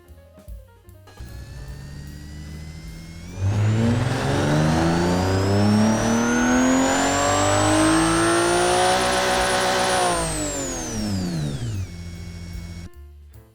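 A vintage hillclimb car engine in the video game Automation idles, then revs up hard for several seconds in a loud rising howl, holds high, and drops back down before settling again.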